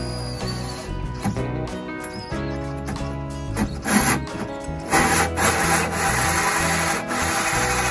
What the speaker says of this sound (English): I've got to drill a hole, fairly big hole, and then get that mounted.